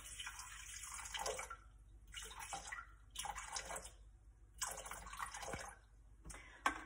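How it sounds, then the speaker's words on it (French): Water poured into a Thermomix bowl, 300 g measured out for bread dough, comes as several separate bursts of splashing and trickling, fairly close and steady, with brief pauses between pours and no talk over it. "Il nous demande 300 g d'eau. Alors, c'est parti. Pour 300 g d'eau."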